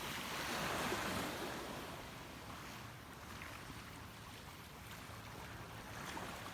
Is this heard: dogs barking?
no